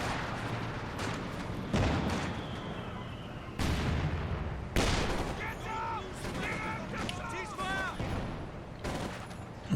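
Artillery flares and gunfire in a competitive strategy video game match, scattered booms and sharp bursts of fire at varying distances, with commentators talking over the battle.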